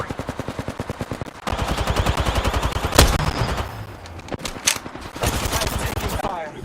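Rapid automatic gunfire in Apex Legends, loud and close, runs in long bursts of evenly spaced shots with brief pauses and a sharp louder shot between them.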